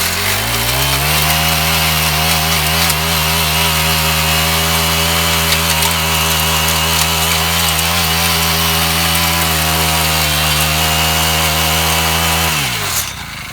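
A Honda FG100 Harmony mini tiller engine runs at a loud, steady idle for roughly twelve seconds, then cuts out abruptly near the end.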